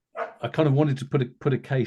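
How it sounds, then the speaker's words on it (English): A pet dog barks several times in short bursts close to the microphone, the yaps overlapping a man's ongoing speech. "that's my dog joining in"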